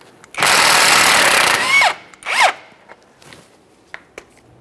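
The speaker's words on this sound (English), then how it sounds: "Let's remove that nut." A 19 mm nut comes off the rear shock absorber mount of a 2011-2020 Toyota Sienna: one loud, close mechanical burst of about a second and a half, then a shorter second burst and a few faint clicks.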